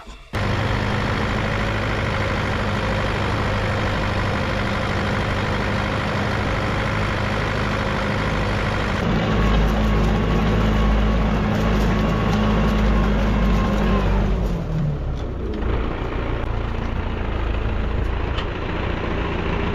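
A Scout 504-C tractor engine running steadily with a disc harrow in the field, a loud continuous low engine drone that deepens midway and then shifts in pitch, with no talking.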